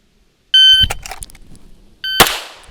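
A shot timer gives a loud electronic beep, then a handgun shot cracks sharply, with a short clatter after it. A second beep follows and a second sharp shot fires close behind it, with no talking.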